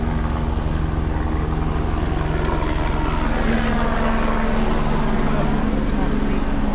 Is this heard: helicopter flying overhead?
yes